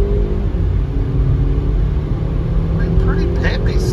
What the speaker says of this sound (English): as she warms up, she's coming alive here. But still got a misfire